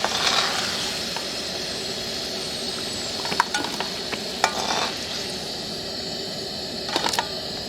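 Potatoes frying crisp and red in hot oil while cooking a spiced khoyra fish dish, a steady close sizzle running throughout with a few sharp clinks of a utensil stirring the pan, no voices.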